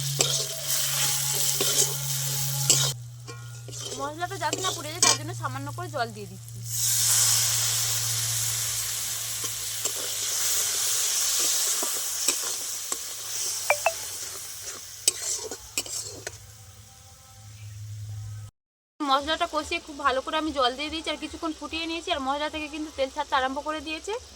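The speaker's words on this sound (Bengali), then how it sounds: "এবার খুব ভালো করে মশলাগুলো আমি নেড়ে ফেলে নেব" Kashmiri chilli powder and spices frying in a pan for a Bengali potol chingri dish of pointed gourd with prawns, stirred and scraped with a spatula over a loud hissing sizzle, with a voice speaking at times between the stirring.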